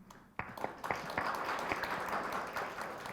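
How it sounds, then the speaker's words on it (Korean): Warm applause from a seated audience at a rural schools forum, many hands clapping in a dense, steady burst that starts abruptly and holds at an even level throughout. "따뜻한 박수와 경청 부탁드립니다"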